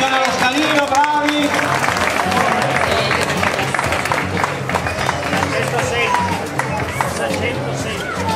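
An outdoor crowd claps and cheers for pairs of participants arriving at the finish of a mountain race, loud, continuous clapping with crowd chatter and an announcer's voice running over it.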